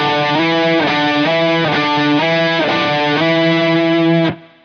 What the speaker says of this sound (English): which is basically just a slide from the 5th to the 7th